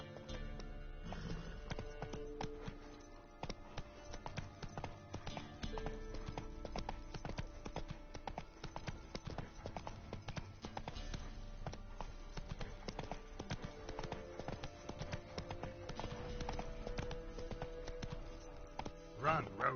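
Horse hooves clip-clopping steadily on a game horse in The Witcher: Wild Hunt, a continuous rhythmic trot under music and ambience, with occasional whinnies.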